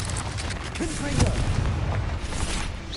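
A Confringo blasting spell in Hogwarts Legacy goes off as a deep, rumbling boom that swells near the middle and trails into a low roar, with a voice calling out over it.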